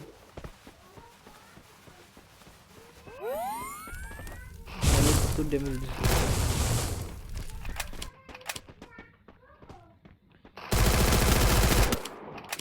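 Bursts of MP40 submachine gunfire in the battle-royale game Free Fire, with several loud sustained volleys separated by quieter gaps, and people talking during the fighting.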